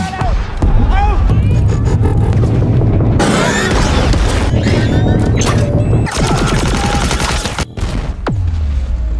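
Loud cinematic battle noise from a film: booming blasts and rapid gunfire rattle over a dense rumble, ending with a deep explosion destroying a tank, fading into low rumble.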